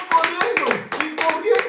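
Rhythmic bursts of clapping ring out in a lively church service, quick groups of claps repeating about every third of a second, mixed with voices talking and calling out.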